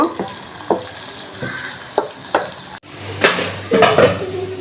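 Onions fried in oil are poured over cooked meat, giving a soft sizzle with scattered clinks and scrapes of a spoon against a metal pot, the sizzle growing louder and busier toward the end.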